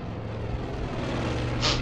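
A propeller airplane engine drones steadily overhead in the Far Cry 5 video game, a continuous low hum that swells slightly near the end.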